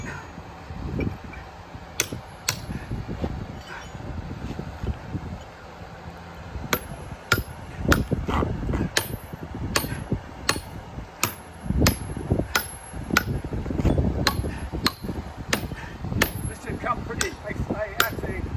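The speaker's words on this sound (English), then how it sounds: "And now I'm going to put the chisels in." Steel chisels hammered into a block of alabaster stone to split it, a series of sharp, ringing metallic strikes in irregular bursts, close and fairly loud, over low rustling handling noise.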